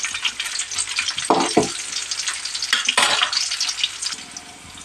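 Green chilli slits sizzling in hot oil in a pan for chicken liver fry, a bright crackling fry interrupted by a few scraping stirs close to the microphone, no voices.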